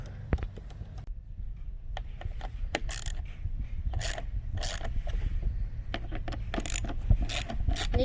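Loosening 6mm hex head bolts on a 2020 Husqvarna TC250 dirt bike, heard as faint intermittent clicks and ratcheting taps from the tool, scattered irregularly through a steady low background.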